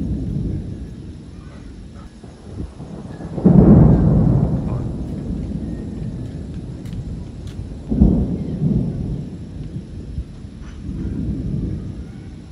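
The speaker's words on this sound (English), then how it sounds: "Дождь собирается." Low rumbles of thunder roll in at intervals, one strong peal followed by weaker ones, over a soft steady patter of rain in a mountain setting.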